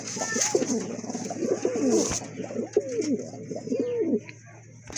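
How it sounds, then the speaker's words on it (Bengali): A pair of Barhuma pigeons coos close by in several loud, rolling phrases, one after another, over a faint steady hum. "মাসাল্লাহ আর এক জোড়া কবুতর এখানে বারহুমা"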